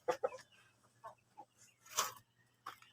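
Shamo chickens cluck in short scattered calls near a breeding pen, a few soft clucks and one louder squawk against a quiet background with no talking.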